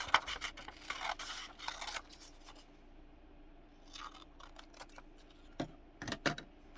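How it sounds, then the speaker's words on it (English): Scissors snip out a small paper label in several quick bursts of crisp cuts, close by and fairly quiet, with pauses of light paper handling between them. "I'm going to cut one of these out"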